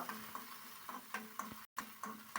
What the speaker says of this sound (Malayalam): നെയ്യ് ചൂടായി വന്നപ്പോൾ നമ്മളതിലേക്ക് അണ്ടിപ്പരിപ്പ് അതേപോലെ മുന്തിരി പിന്നെ ഏലക്കായി രണ്ടോ മൂന്നോ ഏലക്കായി എടുത്തിട്ട് അത് നന്നായിട്ട് ഫ്രൈ ആക്കി എടുക്കുക